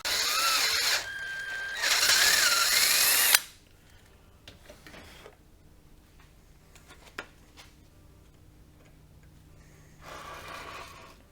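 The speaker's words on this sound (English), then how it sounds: "grab your drill and your drill bit, and you need to line yourself up and carefully drill your hole." A power drill bores a hole for a helicoil thread repair on a tri moto project, loud high whining bursts in the first three seconds, then quiet handling clicks and a short final whir.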